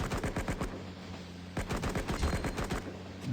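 Rapid machine gun fire from the Cover Fire video game rattles in dense, fast bursts, with a short pause in the middle before another stream of shots, loud and close with no talking.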